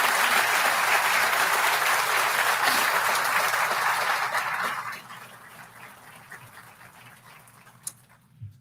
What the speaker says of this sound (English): Let's go ahead and give those partners a round of applause